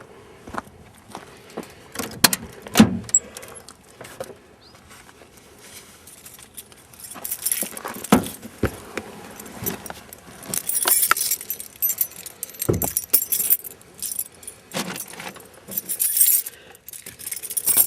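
Car keys for a 1989 Lincoln Town Car jangle close by, metallic clinks and rattles in irregular bursts as a key is sorted out, growing busier toward the end.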